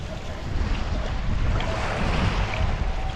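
Ocean rollers wash and rumble continuously during hydrofoil riding off Egypt, a broad steady roar of water mixed with wind buffeting the microphone, loud and close with no talk.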